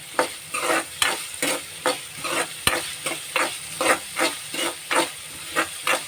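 Onions and tomatoes sauté in a pan for an egg dish, with a ladle scraping in a steady repeated rhythm over a constant sizzle and hiss, close and clear.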